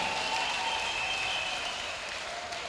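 A church congregation gives a sustained round of applause as a clap offering, a dense, even wash of many hands clapping together that holds steady throughout.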